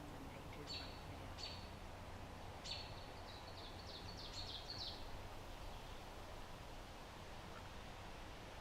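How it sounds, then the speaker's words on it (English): Wild birds sing in spring woods, with several short high chirps and trills over the first five seconds, faint and distant beneath a steady broadband hiss that continues alone afterward. "I'm going to turn on Merlin so I can tell you some of the bird song that you're hearing."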